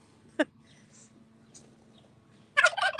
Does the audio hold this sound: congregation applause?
no